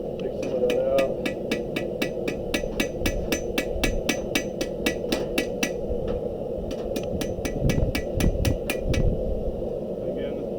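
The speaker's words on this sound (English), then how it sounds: "hammer it down" Rapid, steady hammer strikes on a metal panel ringing out in quick succession, with a short pause midway before the pounding resumes.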